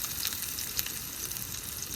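Chopped onion fries in oil with a close, continuous bright hiss and scattered small crackles over two seconds, with no one speaking.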